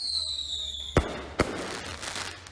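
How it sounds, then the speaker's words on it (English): Illegal fireworks exploding over a New York street at night, two sharp loud bangs about half a second apart with a high whistling tone before them and a crackling, rumbling tail afterward. "Just enjoy the fireworks."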